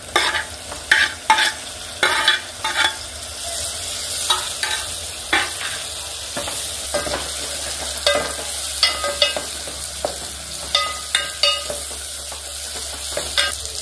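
Tomatoes frying in a pan with onions and green chillies, under a low sizzle with repeated sharp scrapes and knocks of a spoon stirring against the pan, sometimes in quick clusters, and no voices.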